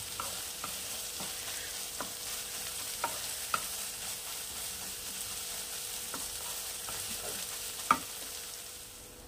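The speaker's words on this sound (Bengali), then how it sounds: "এগুলো না এই ভাজতে ভাজতে একটু দানা দানা হয়ে আসবে আর এই ব্রাউন হয়ে আসবে" Mawa (khoya) for Holi gujia fries in a pan with a soft, steady sizzle, punctuated by sharp scattered clicks and scrapes of a spatula stirring; fairly faint, with no voices.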